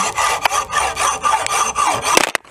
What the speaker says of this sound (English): so we're just going to cut this with a hacksaw